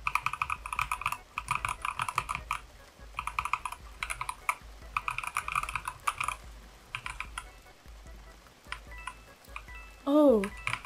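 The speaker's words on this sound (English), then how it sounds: "I just love the sound of this keyboard." Close, quiet computer keyboard typing comes in clustered bursts of clicks separated by brief gaps, with a short sliding tonal sound near the end.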